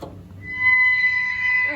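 A toy animal sound button plays a short electronic whale call, steady tonal bands that swell and hold for under two seconds, close and fairly loud with no talk over it.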